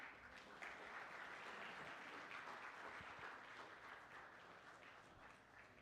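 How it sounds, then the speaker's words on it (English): A hall audience at a cricket league players auction breaks into sustained applause, a dense wash of many hands clapping steadily, fairly distant and fading slightly toward the end. "kindly felicitate our Commissioner with a round of applause, please"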